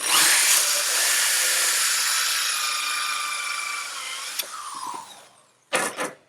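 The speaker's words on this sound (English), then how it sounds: "I drill about halfway, 3/4 of the way through" A cordless power drill bores partway through a wooden crate board, whining steadily and loudly for about four seconds before winding down, followed by a short burst of renewed drilling.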